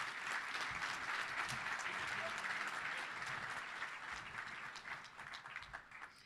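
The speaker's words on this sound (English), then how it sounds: "Let's give a round of applause to all those great sponsors." A roomful of guests at a Touchdown Club luncheon claps for sponsors, a full, steady round of applause that slowly thins toward the end.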